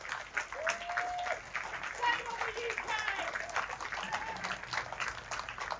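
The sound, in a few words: audience applause at a festival speech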